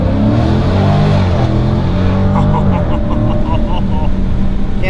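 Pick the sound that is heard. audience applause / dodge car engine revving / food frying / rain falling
dodge car engine revving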